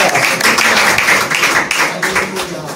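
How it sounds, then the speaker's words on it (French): A church congregation applauds during a sermon, dense clapping with voices mixed through it, fairly loud and close throughout. "On applaudit le Seigneur."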